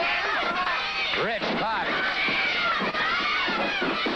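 A crowd at a 1981 GCW wrestling match chants and jeers at Michael Hayes, a dense roar of voices under a commentator's steady talk, with rhythmic shouted bursts rising and falling throughout.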